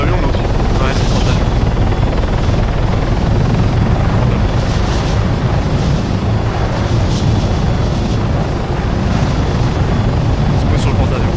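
In a video game, an aircraft sets down on an aircraft carrier with a loud, steady rotor-like roar that fills the whole stretch, while people talk over it.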